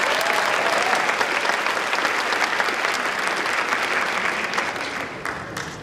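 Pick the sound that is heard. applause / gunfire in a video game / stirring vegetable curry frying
applause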